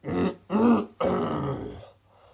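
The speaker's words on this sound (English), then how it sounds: "they can't stop coughing" Several rough, throaty coughs or throat-clearing bursts in quick succession, close by, with a quiet moment after.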